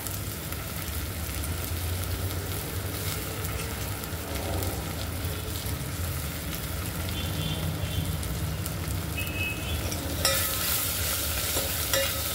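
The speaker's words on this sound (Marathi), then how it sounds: "परतून घ्यायचं, वरणाला खूप छान टेस्ट येते तो मसाला जास्त छान परतला" Masala sautéing in a pan for varan, a Marathi-style lentil dal, with a steady close sizzle and scraping stirs running throughout, and a brighter burst of frying near the end.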